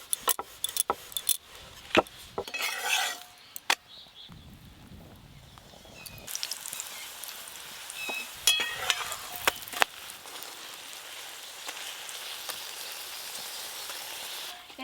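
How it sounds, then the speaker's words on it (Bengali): A methi shak paratha frying in oil on a pan gives a soft, steady sizzle, with scattered clicks and scrapes of a utensil turning it early on; no one talks. "এই দেখুন একটা মেথি শাকের পরোটা ভাজা হয়ে গেল।"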